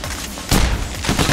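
Gunfire in Payday: The Heist, a brief loud chaotic burst of shots with one heavier blast in the middle, dense and close.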